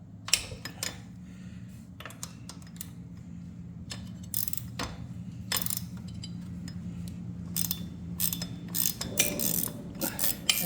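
A 7/16 inch bolt comes off a motorcycle shift linkage on a Road Glide, with quick ratcheting clicks in bursts and metallic tool taps up close over a low steady hum.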